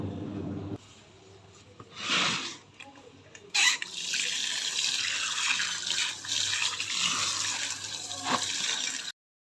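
Water splashes and runs from an outdoor time-tap during household washing, a steady gushing flow with a few louder surges and splashes, ending abruptly near the close.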